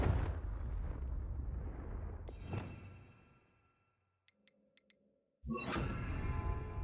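Confringo blasting spell in Hogwarts Legacy, a loud rumbling explosion that fades over several seconds, a few faint chimes in the near-silent gap, then a second heavy blast bursts in abruptly.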